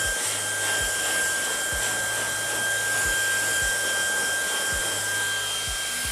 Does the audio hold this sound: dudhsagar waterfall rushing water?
no